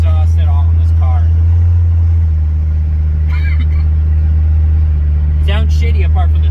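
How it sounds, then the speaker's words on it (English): Diesel engine of a Mercedes W123 Coupe idling with an open downpipe and no exhaust, a loud steady low rumble running throughout while someone talks over it in bursts. "I'm running this with an open downpipe right now."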